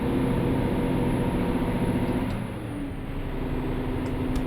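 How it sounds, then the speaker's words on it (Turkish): Bus engine in Euro Truck Simulator 2 holding a steady low drone as it accelerates, with a faint shift partway through and no voices over it. "Otobüs sesi gerçekten güzel."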